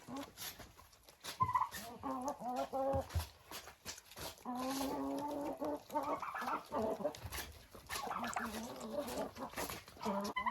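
Domestic turkeys gobble and cluck in repeated bursts close by, their calls spread through the whole stretch with a steady background noise.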